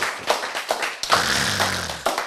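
Audience clapping at a Korean health lecture, a short patter of claps with a few sharp taps standing out, fairly close.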